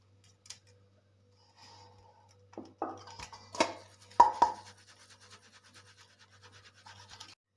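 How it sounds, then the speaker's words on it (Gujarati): Flour for papdi gathiya dough is sifted through a sieve, giving quiet, sparse scratches and light taps that cluster in the middle and then thin out into faint rasping. "આપણે જે લોટ લીધેલો એને પહેલાં આપણે ચાળી લેશું"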